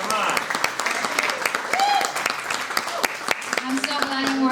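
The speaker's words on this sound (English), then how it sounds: "Give a big, big round of applause." Audience at a community champions event claps in a steady round of applause, moderately loud and continuous, with a speaker's voice talking over it.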